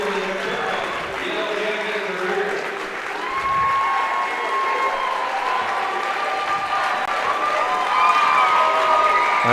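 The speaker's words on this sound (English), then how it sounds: "Kai Anderson getting a nice round of applause as she checks out." Crowd at a high school girls' basketball quarterfinal gym applauding and cheering a player checking out, sustained clapping with scattered shouts and an announcer talking over it, building louder toward the end.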